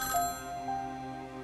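A telephone rings in a house at Graceland in a 1957 setting, a steady tonal ring holding at moderate level for the whole stretch with no voices.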